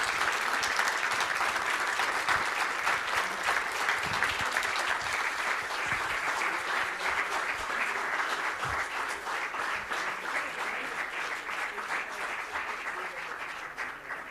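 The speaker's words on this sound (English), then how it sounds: "Please give them a last round of applause" A conference audience gives a sustained round of applause that stays dense and even for about fourteen seconds, tapering slightly at the end, with faint voices underneath.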